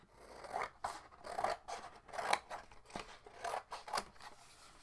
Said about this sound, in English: I want to take off a little of my excess paper.